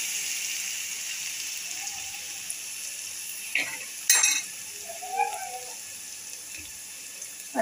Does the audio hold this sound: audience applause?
no